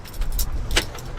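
A project truck's ignition key is cycled while the engine stays silent and its injectors do not fire. A ring of keys jangles with light metallic clinks up close over a steady low hum.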